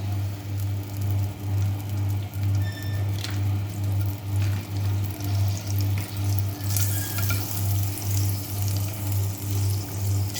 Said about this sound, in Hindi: अब फ्राई कर रहे हैं। मक्खन को गर्म कर रहे हैं।